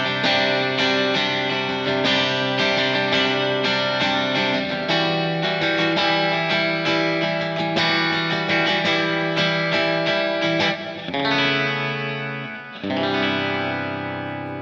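Electric guitar played through a cleaned-up Kemper amp profile, strummed chords and ringing notes with a light chorus shimmer, steady and fairly loud, no talking.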